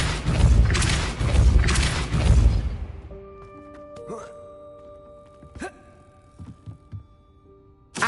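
Depulso spell cast in Hogwarts Legacy, a loud rumbling magical blast with thuds and a whooshing burst, followed by quieter game effects and a few sharp hits.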